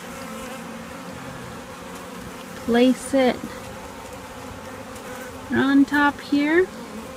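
Honeybees hum steadily around a hive during a package install, a low constant buzz that continues beneath two short stretches of speech.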